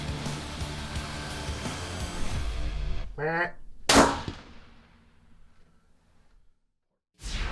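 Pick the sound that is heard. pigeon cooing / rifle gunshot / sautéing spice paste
rifle gunshot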